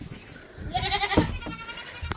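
A goat in a breeding-season pen gives a short nasal bleat close by, a brief wavering cry under barn noise with a few thumps and rustles around it.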